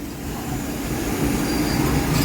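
A DEMU passenger train on the Secunderabad–Siddipet line runs slowly, giving off a steady, close rumble of wheels and coaches that swells slightly toward the end.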